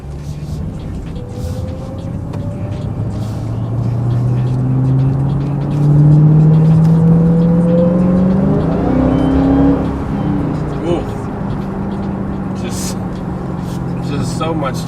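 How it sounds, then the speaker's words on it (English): A supercharged Hellcat muscle car accelerates hard nearby, its supercharger whine climbing steadily in pitch over a deep engine drone before easing off and settling into a steadier rumble. "That supercharger just whines."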